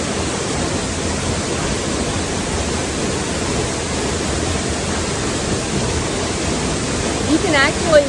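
Steady, loud roar of a waterfall on a canyon hiking trail in a state park, a broad continuous rush of falling water close by, with a brief louder splash near the end.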